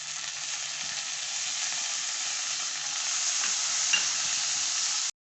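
Tomatoes and masala for dahi aloo fry in a pan with a strong, constant close sizzle and a few light stirring touches, ending abruptly.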